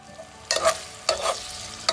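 Spiced chicken kema base cooking in about three cups of sunflower oil: a low steady sizzle broken by three close bursts of stirring and scraping, with no voices.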